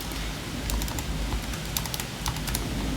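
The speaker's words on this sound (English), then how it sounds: "I hope you can follow with what I'm typing" Steady typing on a computer keyboard during a narrative game stream, with bursts of crisp, close key clicks running through the three seconds and no talk.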